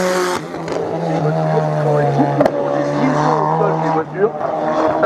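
Race cars at a regional hill climb in Hébécrevon, engines droning steadily at close range with rising and falling pitch as they pass, one sharp crack midway and a voice talking over the top.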